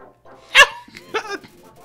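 The Greater Dog enemy in the video game Undertale barks twice, two short, close yips separated by a brief pause.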